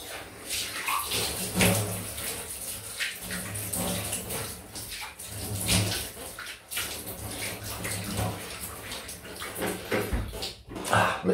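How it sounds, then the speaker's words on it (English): Running tap water splashing into a sink as a face is rinsed with cold water after a wet shave with a safety razor, a steady close splashing and gurgling that goes on throughout with no voice. "Just going down for the cold rinse."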